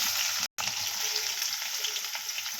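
Onions are frying in hot oil with mustard seeds and a little cumin for a tomato curry. A close, steady, dense sizzle carries on with a brief cut, and no voices.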